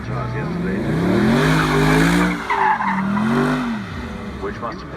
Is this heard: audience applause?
no